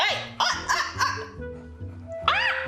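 A puppy barks repeatedly, close and loud, in sharp yips and barks spaced irregularly, with a brief pause before a final burst.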